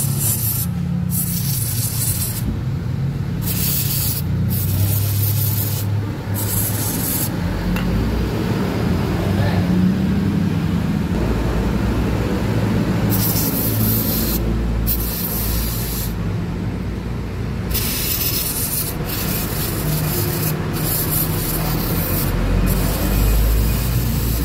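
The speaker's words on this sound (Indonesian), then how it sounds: "Semprot." Aerosol cleaner is sprayed onto the ISC idle motor of a Yamaha NMAX scooter in loud, hissing bursts, several long blasts separated by short pauses, up close, with a voice speaking faintly underneath.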